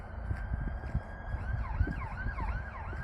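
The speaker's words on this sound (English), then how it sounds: "as soon as I start a video there's a police car" A police car siren wails outside in a rising and falling sweep, moderately loud, with background noise and no talk.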